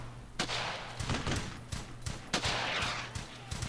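Machine gun fire in the WWII shooter Brothers In Arms: Hell's Highway: rapid bursts of gunfire with sharp, repeated cracks over a steady roar of battle, loud and close throughout.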